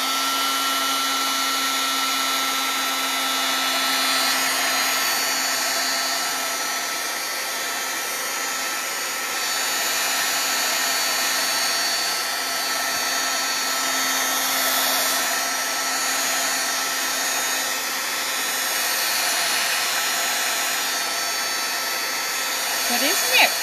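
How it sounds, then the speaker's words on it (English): A heat gun blows a continuous, even, fairly loud whoosh with a steady hum as it dries a wet embossed card, running without a break and with no voices over it. "Grab my heat gun again because I just got everything very wet."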